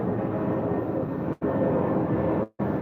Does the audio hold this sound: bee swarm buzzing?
no